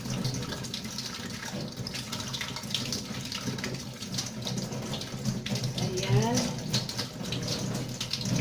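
Potatoes being washed under a running kitchen tap, a steady broad gush of water with small splashes and handling noises throughout; a voice speaks briefly over it.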